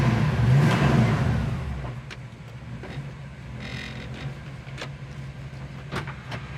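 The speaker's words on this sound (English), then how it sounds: "Wipers work." Windshield wipers run on a 1966 Chevelle. A steady motor whir plays under a broad cabin hum, with faint recurring clicks as the blades sweep, and no talking.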